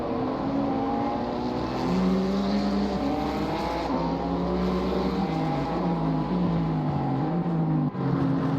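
Ginetta GT4 race car engine in Assetto Corsa Competizione qualifying at Donington Park, a loud continuous drone rising and falling through gear changes, with a brief dip near the end.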